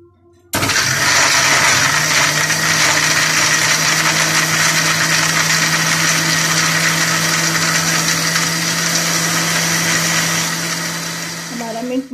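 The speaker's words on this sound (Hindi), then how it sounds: "अब इसको हम अच्छे से ब्लेंड करेंगे" An electric blender whirs up abruptly and runs at a loud, steady, high-pitched drone for about eleven seconds while blending a mint margarita, then winds down at the end.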